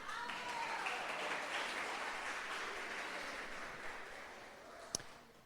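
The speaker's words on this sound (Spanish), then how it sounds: "recibámosla con un aplauso." Audience applause greets a woman called up in a church gospel study gathering, a steady wash of clapping from many hands held for several seconds, fairly distant, ending with one sharp nearby clap.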